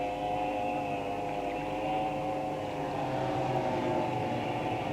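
Racing powerboats in a 1980 Embassy Gold Cup race on water, a steady distant engine drone with layered tonal whine, holding evenly without talk.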